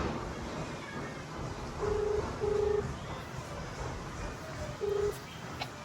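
Three short telephone keypad dialing tones, two close together and one later, sound faintly over a low background hiss.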